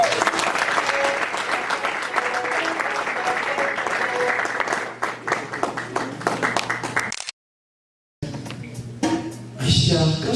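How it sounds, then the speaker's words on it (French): Church congregation applauding a pastor at a French-speaking spiritual revival in Galesburg, USA: sustained dense clapping for about seven seconds, a sudden dead gap, then clapping and cheering resume. "Est-ce qu'on peut acclamer?"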